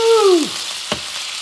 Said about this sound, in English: I'm going to flambe this baby.